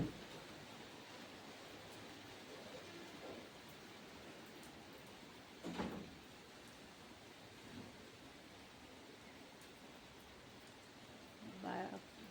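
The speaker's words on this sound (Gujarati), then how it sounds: "બરાબરનો વરસાદ આવવા માંડ્યો" Heavy winter rain pours down outdoors as a steady, even hiss that fills the whole stretch, with a couple of brief louder swells and faint voices in the background.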